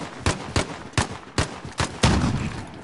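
Several separate gunshots from Call of Duty Modern Warfare in co-op play, sharp cracks spaced at irregular intervals over a few seconds, the last followed by a lingering rumble.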